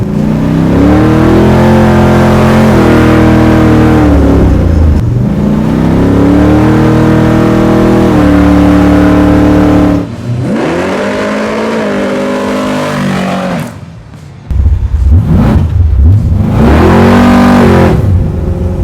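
A 700 hp naturally aspirated big-block Chevrolet Camaro engine accelerating and revving hard, loud and close, with rising and falling pitch sweeps, a brief lift around the middle and renewed throttle blips near the end.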